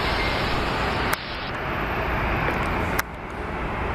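Delta airliner departing Seattle for Minneapolis, a steady broad jet roar that sits loud and constant with a couple of abrupt shifts in tone, heard from the ground with no voices.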